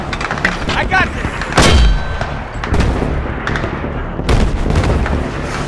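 Heavy artillery firing illumination rounds in a Battlefield 3 battle scene, several loud booming discharges with metallic clangs and rumbling tails spaced a second or two apart.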